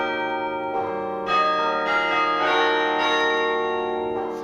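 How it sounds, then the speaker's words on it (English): Carillon bells ringing in a purpose-built bell tower chamber: several overlapping bell strikes with long ringing tones, struck one after another in a slow melodic sequence, loud and close with no talk. "It's an acoustically perfect bell chamber for this carillon."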